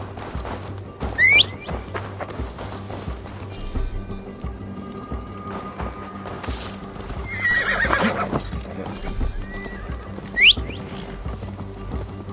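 Horse neighs and hoof clip-clops from the video game Assassin's Creed Valhalla, with sharp whinnies near the start and end and a louder burst midway, all over a steady game background hum.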